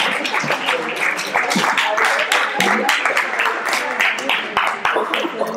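An audience at a talk on Ayurveda and biodecoding breaks into sustained, dense clapping that rises and falls for several seconds, close and fairly loud.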